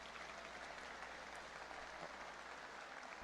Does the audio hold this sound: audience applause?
yes